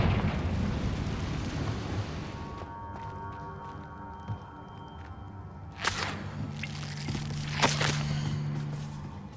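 Confringo fire spell blasting in Hogwarts Legacy, a dense burst of noise fading into quieter ambience, then several sharp cracking impacts and whooshes follow, moderately loud.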